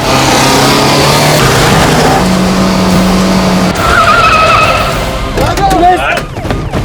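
A car in a chase screeches its tires in a long skid, engine revving loudly throughout, with the squeal continuing for several seconds before a shouted voice and more scraping and squealing near the end.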